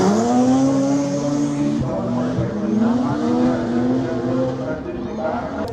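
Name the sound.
race cars driving around a track corner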